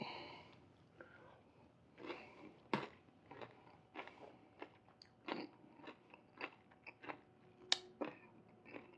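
Quiet, close crunching and chewing of fresh tomato pico de gallo, a series of irregular bites and soft mouth sounds spread over several seconds.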